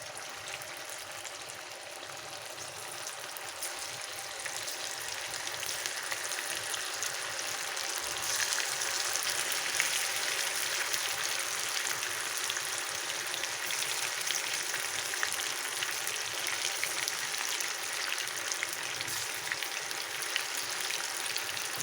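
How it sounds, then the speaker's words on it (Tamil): Marinated prawns fry in oil in a pan, a continuous soft sizzling hiss that grows a little louder partway through and then holds steady, with no talking. "ஒரு பேனில் எண்ணெய் ஊற்றிட்டு இந்த நம்ம பெரட்டி வச்சுருந்த ப்ரானை வறுத்துடலாம்"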